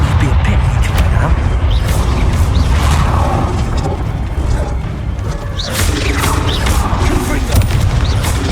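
Confringo blasting spell explosions in Hogwarts Legacy, dense booming blasts and crashes rolling continuously in loud combat, with voices in the mix.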